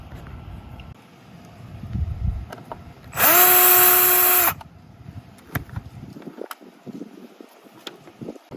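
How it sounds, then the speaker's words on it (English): A power drill spins for about a second and a half, backing screws out of the bottom of a MinnKota Ultrex foot control board, one loud close burst between quieter handling clatter and taps. "we're just going to be removing most of these screws here on the bottom"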